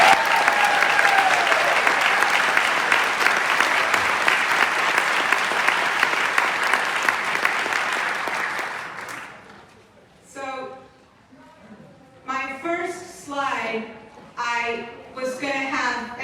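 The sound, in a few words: audience round of applause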